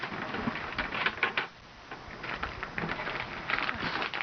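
A toy dollhouse window being shut, giving a run of small plastic clicks and rattling mechanism sounds at close range, with a brief quiet pause midway before the clicking resumes.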